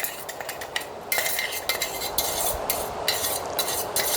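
A spoon stirs and scrapes a thick dink ladoo mixture in a metal pot, with close, continuous scraping, clinks against the pan and a faint sizzle, and no talking.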